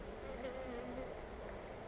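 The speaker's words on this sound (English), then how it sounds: "There's another little bee trying to get out here." Honeybee buzzing close by during a beehive inspection, a faint steady hum with a wavering pitch, no talk.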